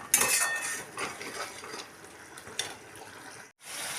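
Masala for a moong dal bora curry is stirred and sautéed in a pan, with soft metal scraping and clinks over a faint sizzle, close and fairly quiet.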